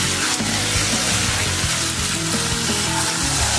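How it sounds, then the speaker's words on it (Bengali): Fried potatoes sizzle loudly in a pan of mutton for mutton kasa, a dense continuous crackle with occasional stirring scrapes. "এবার আমি ভেজে রাখা আলুগুলো একটু দিয়ে কষিয়ে নেব"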